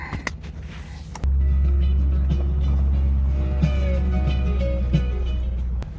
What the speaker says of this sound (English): take us for a real test drive and see what happens